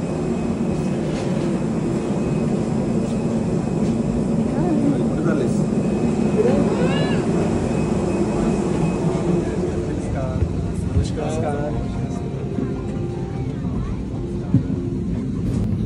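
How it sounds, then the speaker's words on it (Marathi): An airplane drones steadily overhead, a broad continuous roar lasting throughout, with a voice and other voices talking faintly over it. "प्लेन कसं उडतं?"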